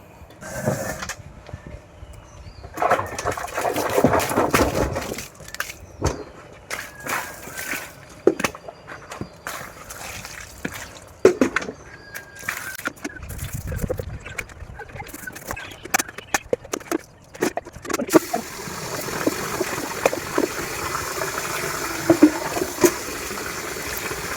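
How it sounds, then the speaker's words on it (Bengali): Water poured into a container, heard as a steady rushing flow in the last few seconds, after a long run of irregular knocks, clatter and handling noises. "তো ফাইনাল জল দিয়ে দিলাম মধ্যে"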